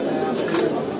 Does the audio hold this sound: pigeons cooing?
yes